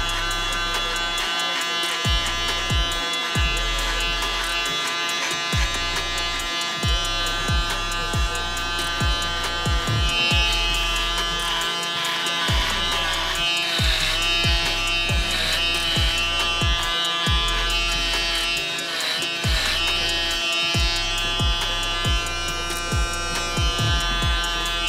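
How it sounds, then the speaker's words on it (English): An electric shaver buzzes steadily close to the skin during a home haircut, a continuous near hum with small rhythmic changes as it passes over the head, with no talking. "we're gonna come in with our shaver and get it, you know, close to the skin"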